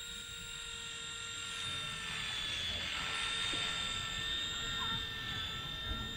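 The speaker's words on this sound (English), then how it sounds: "And off it goes and turns around and losing a little bit of altitude in those fast turns" An XK K127 Eagle 4-channel RC helicopter flies outdoors, with a high, whining rotor buzz that swells as it passes nearer and fades again, steady and continuous throughout.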